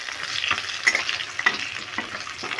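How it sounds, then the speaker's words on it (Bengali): Catla fish head fries in hot oil with a crackling sizzle and repeated stirring scrapes close up, a busy rhythmic frying texture with no talk. "এবার বাকি মাথাটা ভেজে নিচ্ছি।"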